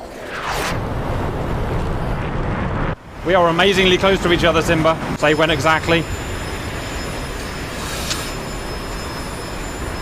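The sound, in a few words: fighter jet engine in DCS flight simulator video game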